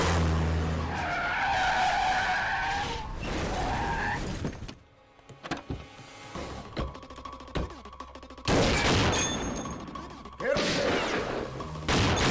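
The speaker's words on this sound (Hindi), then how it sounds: "बहुत टाइम बाद हमने कारों की ये साउंड सुनी।" Cars skid and crash through a barrier in a movie fight scene, giving loud tire screeches and engine roars, then a quieter stretch of scattered impacts and rumble before the loud skidding returns.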